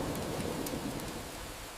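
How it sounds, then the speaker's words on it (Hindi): Heavy rain pours steadily while low thunder rumbles underneath, a dense, continuous wash of sound with no voices. "बारिश अब मूसलाधार हो चुकी है। आसमान गरज रहा है, जैसे धरती को हिला देना चाहता हो।"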